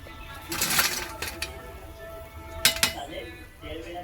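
A metal spoon clinks and scrapes in a pan of ridge gourd fritters (bhaji) frying in oil, with a few sharp clinks over a steady low background hiss.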